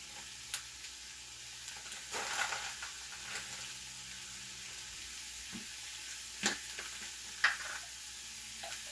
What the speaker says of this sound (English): now I'm going to throw in half of an onion that I have chopped. And some frozen green peppers.